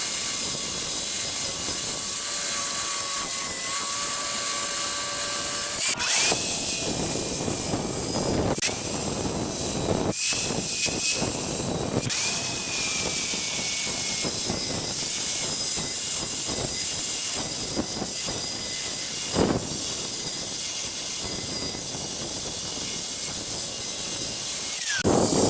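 Steel bumper mounts for a brush guard are trimmed with a power tool, a loud, harsh cutting hiss with high squealing tones, shifting in pitch and briefly pausing as the cut continues.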